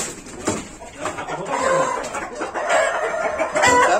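Roosters crowing and clucking close by at a rural poultry farm, with repeated calls overlapping in a busy barnyard chorus, loud and near, with a few faint voices in the background.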